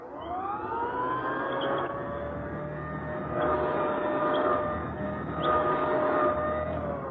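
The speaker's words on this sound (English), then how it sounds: "An old-style vacuum sweeper running on the floor above." Old-style vacuum sweeper passing back and forth over a rug on a floor above, recreated as a radio sound effect. A steady whining motor hum rises and falls gently with each pass, heard alone.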